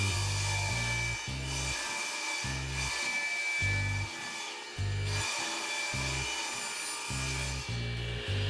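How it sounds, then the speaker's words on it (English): Table saw ripping a board along a fence set at 12 inches, heard as a loud, continuous broadband roar with a low, pulsing rumble that rises and drops in short repeated bursts, no talking. "So I got this set at 12 inches on my table saw. So I'm going to run this through there and rip it."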